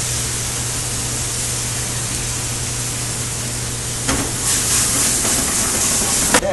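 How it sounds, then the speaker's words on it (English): Red Chianti wine poured into a hot pan flares up with a steady broad hiss and sizzle, swelling louder and rougher in the last couple of seconds as the flame catches, with a sharp crackle near the end. "before you flame it with the wine, you might want to move the pan away, otherwise it's going to flame"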